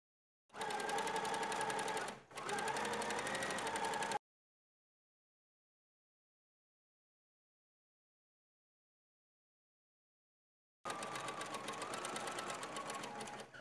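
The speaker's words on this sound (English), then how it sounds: "pivoting while the needle is down in the fabric. And down the front to the hem." A sewing machine stitches coat facings down the front to the hem, running steadily in two close bursts with a brief pause, then falls silent for several seconds before starting again near the end.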